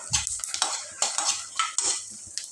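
Nalleru stems being roasted in a pan for chutney, with repeated scraping and stirring strokes of a utensil against the pan and light sizzling between the strokes.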